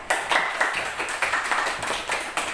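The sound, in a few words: class clapping for group after presentation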